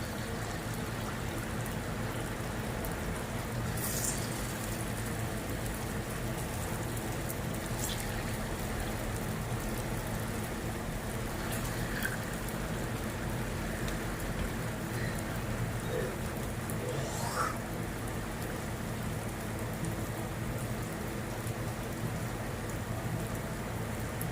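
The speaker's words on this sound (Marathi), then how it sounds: "कसा पाऊस यायला आहे बघा" Steady rain falls throughout, a dense continuous patter with a few faint distant calls and sounds breaking through now and then.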